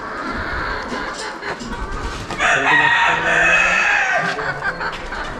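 A flock of about 250 free-range country chickens clucks steadily at close range on a poultry farm, and a rooster's crow rises loudly partway through.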